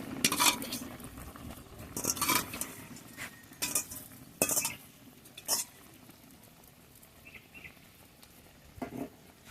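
A metal lid comes off a pot of small fish cooking with olives, followed by clinks and scrapes of utensils as chopped coriander leaves go in, several sharp separate knocks over a low simmer.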